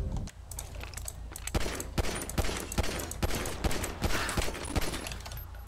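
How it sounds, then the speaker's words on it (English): Gunshots crack in a rapid, irregular string of sharp reports during a police shootout in GTA V on PC, fairly loud and close, with no talk over them. "So we got some shots fired here."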